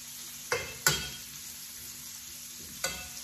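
Pancetta frying for carbonara in a Saladmaster pan, a steady soft sizzle broken by three sharp scraping stirs of a utensil against the pan, close up, with no voices.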